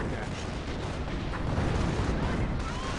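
Mortar and artillery fire in Company of Heroes, a dense rumbling barrage of low booms rolling on continuously for a few seconds, with voices talking underneath.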